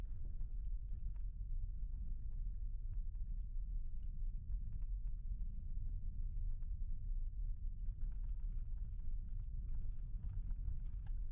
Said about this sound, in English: We do have a lot of wind.